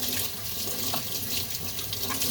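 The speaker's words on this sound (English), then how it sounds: "I'm going to wash my hands here really quick." Tap water runs steadily into a sink during handwashing in a home kitchen, a close, even splashing rush that fills the whole clip with no voices.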